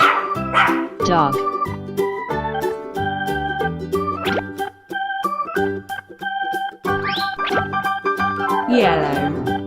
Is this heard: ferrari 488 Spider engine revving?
no